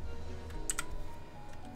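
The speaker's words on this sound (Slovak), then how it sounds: "Ak počujete zvuky klávesnice, tak prepačte, ale mám mechanickú klávesnicu." Clicky keystrokes on a mechanical computer keyboard during a Euro Truck Simulator 2 session, a few close taps clustered together over a steady low background hum.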